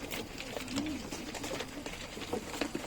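Pigeons coo repeatedly in a crowded loft full of breeding birds and young squabs, soft throaty calls overlapping and rising now and then above a busy, close background of wing shuffles and movement.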